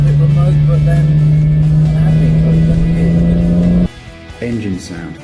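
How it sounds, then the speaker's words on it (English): A turbocharged BMW 1-series M Coupe engine drones steadily from inside the cabin with induction and exhaust noise, then drops off suddenly and picks up again briefly, with someone talking over it. "Quiet for an M car, but they have got some proper induction noise, which is so difficult to get with a turbo motor."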